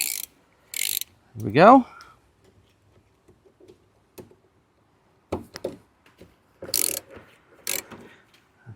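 Ratchet undoing T30 Torx bolts on a Cybertruck side mirror: sparse, scattered mechanical clicks and a brief whirring sweep, close by, with a short spoken remark.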